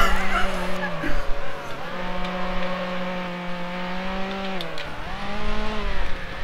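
A race car corners in the video game Need for Speed Hot Pursuit 2, the engine note holding steady then dropping and rising with gear changes and tire squeal, loud and close.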